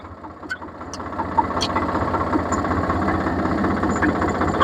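A tractor engine idles on a farm, giving a steady, close, continuous diesel throb with a few brief clicks on top.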